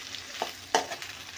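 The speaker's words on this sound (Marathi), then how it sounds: "आता या भेंडीला छान मस्त तेल टाकलेलं आहे आपण" Okra being stirred and frying in oil in a pan, a soft sizzle broken by a few brief spatula scrapes and stirring clicks, quiet and close.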